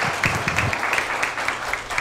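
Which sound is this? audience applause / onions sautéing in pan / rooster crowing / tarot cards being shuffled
audience applause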